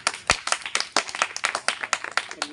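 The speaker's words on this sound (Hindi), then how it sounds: "इसके लिए ताली एक बार हो जाए" A few students clap together during a Sanskrit logic lesson, sharp hand claps in an uneven burst that fades out, close and moderately loud, with no talking over it.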